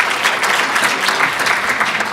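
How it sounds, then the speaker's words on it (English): Audience at the 2018 Norristown Area High School Hall of Fame and Hall of Champions 40th anniversary ceremony breaks into steady, dense applause from many people, even and continuous. "I do think a round of applause is in order."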